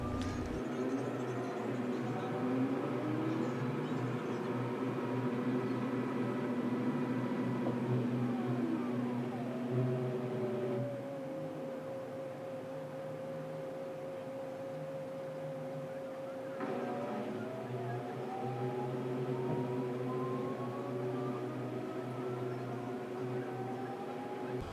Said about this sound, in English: it will start the spin cycle.